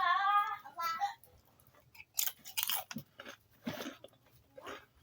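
Nacho cheese Doritos chips crunched and chewed close to the mic in a few bursts, with a person talking between bites.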